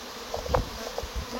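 Honeybees buzzing around an open hive during a transfer from a worn wooden box, a close, fluctuating hum with individual bees flying past, no talking.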